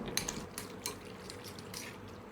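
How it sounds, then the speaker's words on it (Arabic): A utensil stirs noodles in a dish with a few soft scrapes and light clinks against the bowl, close but quiet. No one talks. "نقلب بقى كل ده مع بعضه"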